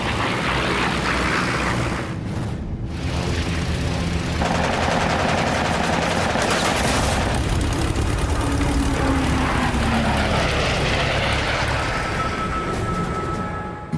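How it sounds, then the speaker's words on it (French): Six Browning machine guns on a P-51 Mustang fighter fire in dense, sustained bursts, loud and close, over a continuous roar of aircraft engine and airflow. "Les 6 mitrailleuses Browning du Mustang abattent le 3e Messerschmitt de la journée."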